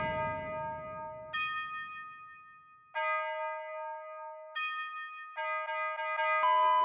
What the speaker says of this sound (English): what I added in is the classic trap bell